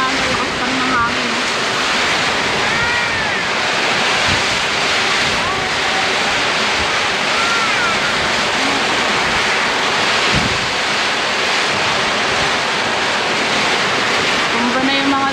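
Strong typhoon wind in Ilocos Sur roars steadily and loudly, buffeting the microphone, with faint voices drifting in and out beneath the constant rush.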